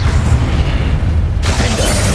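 A fire spell is cast in a fantasy video game: a steady roaring rush of flame that swells into a fresh, brighter whoosh partway through, loud and continuous with no talk.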